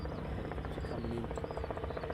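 A Robinson helicopter coming in at an airfield, a steady rhythmic rotor chop and engine drone, fairly loud and continuous throughout the short stretch with no talk.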